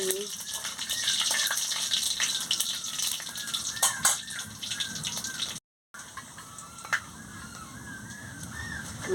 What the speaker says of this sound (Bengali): তেল গরম হয়ে গেছে আমি পাঁচ ফোড়ন আর শুকনো লঙ্কাটা দিয়ে দিচ্ছি দিয়ে ভালো করে নাড়িয়ে নিচ্ছি